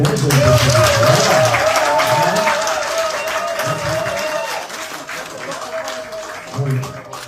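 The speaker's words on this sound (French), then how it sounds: "Les applaudissements timides." Timid, scattered applause from a crowd at a government handover ceremony, strongest at the start and thinning later, with a voice speaking over the clapping throughout.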